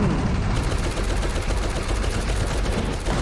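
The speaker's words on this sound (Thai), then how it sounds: "เฮ้ยไม่นะเรายิงเบคอนไม่โดนได้ไงเนี่ย" Dense, continuous gunfire in the Roblox game War Tycoon during a tank battle, with rapid overlapping shots and explosions forming a loud, steady barrage throughout.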